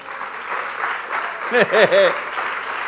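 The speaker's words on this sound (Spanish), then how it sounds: "dale un aplauso, Señor" Steady applause from a church congregation fills the room, with a voice rising briefly over the clapping near the middle.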